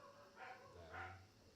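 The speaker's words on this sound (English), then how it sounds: "Oh, and there's the dogs." Dogs barking indoors during a home livestream, two short bursts of barking around the middle, moderately near and not loud, over a low steady hum.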